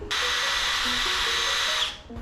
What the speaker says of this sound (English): I'm drilling holes in these to allow the epoxy to go through the holes and kind of hold it a little better.